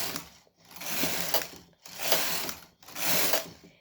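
A hand-cranked sock knitting machine runs in three sweeping passes, its ratcheting gears clicking and whirring loudly up close, each pass separated by a short pause.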